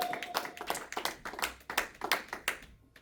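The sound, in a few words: applause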